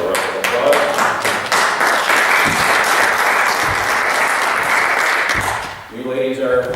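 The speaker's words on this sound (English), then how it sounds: "let's give them a round of applause" A church congregation at a Sunday morning worship service breaks into sustained, loud applause for several seconds, steady dense clapping that tapers off at the end, with a voice speaking over it.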